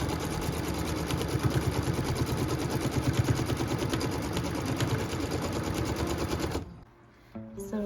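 A sewing machine runs steadily for about six and a half seconds, stitching a tack-down line across four stacked fabric pieces, its rapid needle chatter even and close, then stops abruptly into near silence with a faint click.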